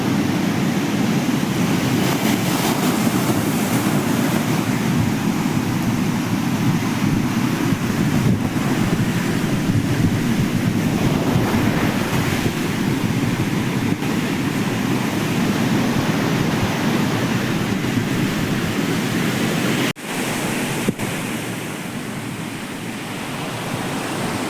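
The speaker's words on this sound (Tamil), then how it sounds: "பீச்சு பாருங்கள், ஃபுல்லாக அலை, பெரியான அலை அடிக்குது." Large waves crash and roar steadily onto a rocky South Goa beach in July, a loud, continuous surf wash heavily buffeted by wind on the microphone, with no voices.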